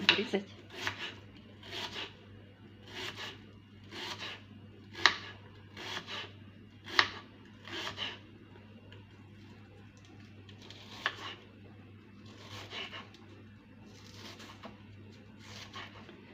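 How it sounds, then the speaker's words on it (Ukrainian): A knife cuts an onion into wedges on a cutting board in a series of repeated, evenly spaced slicing strokes, each a brief rasping cut, close and moderately loud. "Так я порежу всю цибулю."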